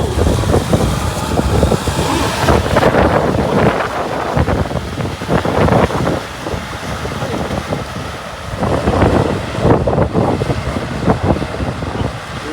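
Wind gusting across an open rice field, loud buffeting roar against the microphone that swells and eases in waves throughout, heard alone without talk.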